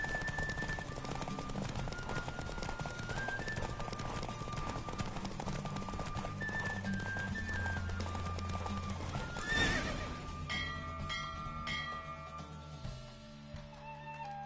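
Hooves drum in a galloping horse race in The Witcher video game, a rapid steady clip-clop under music with a horse's neigh near the end, no talk.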